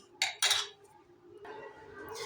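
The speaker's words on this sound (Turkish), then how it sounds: "Daha sonra çatal yardımıyla ezip karıştıracağım." A fork mashing and mixing beetroot with white cheese in a bowl, giving two quick bright metallic scrapes and clinks up close, then a softer continuous scraping and stirring, with no talking.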